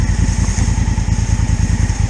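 Honda Africa Twin DCT motorcycle engine running steadily while riding off-road, a loud, close, pulsing low drone with an even rhythm and no talking.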